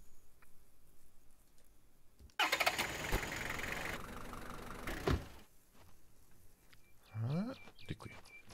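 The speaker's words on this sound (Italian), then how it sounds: "Arriva il trattore oggi, adesso vediamo." Tractor engine in the farming game Farmer's Dynasty cranks and starts abruptly, then runs in a rough steady idle with clunks and a brief whirring mechanical sweep near the end, moderately loud with quieter background noise before.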